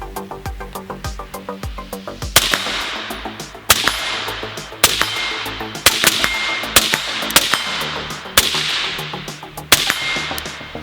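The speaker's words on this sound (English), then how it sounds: "So now we've got an M6 IC with a Gemtech G5 suppressor mounted on it." An M6 IC rifle fitted with a Gemtech G5 suppressor fires at an AR500 steel target about 50 yards away, giving eight or nine sharp, evenly spaced shots, each with a bright metallic ring from the steel, heard without talk.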